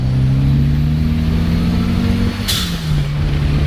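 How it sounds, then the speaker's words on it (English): A turbocharged Mitsubishi Evo 3 with a Stage 1 upgrade pulls hard in third gear with a loud, droning engine note, then a sharp hiss from the blow-off valve bursts out as the revs drop. "you can hear that blow-off valve?"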